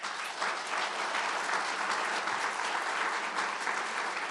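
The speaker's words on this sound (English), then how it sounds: "How about a round of applause?" Crowd applause at an outdoor announcement of a ramp linking the Peace Bridge Plaza to northbound I-190 in Buffalo, dense steady clapping from many hands holding evenly throughout.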